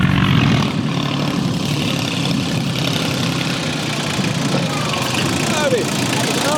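A tractor engine runs outdoors while the tractor comes to dig a stuck vehicle out, a loud continuous rumbling drone that holds steady throughout.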